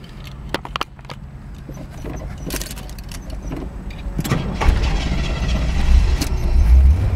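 A 1973 Cadillac Eldorado convertible with its original Rochester Quadrajet four-barrel carburetor is started, with several clicks and clunks, a brief cranking, then the engine catching into a rising low rumble near the end.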